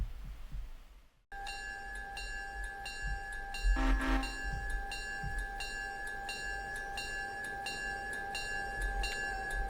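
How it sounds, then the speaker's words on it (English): A train rumbles steadily with sustained tonal squeals and rhythmic clicking, a brief louder burst midway, no voices. "we'll stop the train right there."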